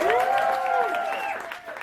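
An audience applauds after a live set at Rough Trade East, a steady wash of clapping running under a voice that rings out over it, then slowly thinning.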